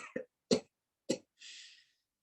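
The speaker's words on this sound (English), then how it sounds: "So we do cough first," Three short deliberate coughs in a row, close and clear, followed by a longer breathy exhale, done as part of a yoga breathing exercise.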